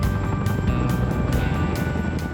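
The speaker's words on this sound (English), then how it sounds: "The Chinook's twin rotor blades produce a massive downwash." A Chinook twin-rotor helicopter hovers nearby in a loud, steady roar, its rotor blades chopping in a regular pulsing beat, with whining engine tones running underneath.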